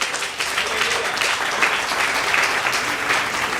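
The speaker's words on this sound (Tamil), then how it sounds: "கைதட்டுங்க வருது அவருக்கு." A church congregation applauds during a salvation message, a dense, steady wash of many hands clapping together at moderate loudness throughout, with no clear speech over it.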